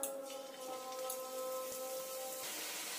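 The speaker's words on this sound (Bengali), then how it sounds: "বাকিগুলোও ভেজে নেব" Old-style sweets made from three ingredients frying in oil in a pan, a faint, even sizzle with light crackling that continues steadily throughout, with no talk.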